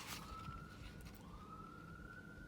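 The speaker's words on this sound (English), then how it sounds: "sorry if you can hear that siren." An emergency vehicle siren wails steadily, fairly close, with a rising and sustained tone over low background noise.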